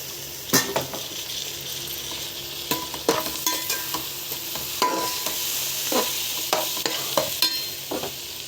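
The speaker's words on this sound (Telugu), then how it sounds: "ఫ్రై అయిన తర్వాత టమాటా వేస్తున్నానండి." Tomatoes fry in a pan for chicken curry while a spoon stirs them, sharp metallic clinks and scrapes landing irregularly over a steady sizzle, close and without any talking.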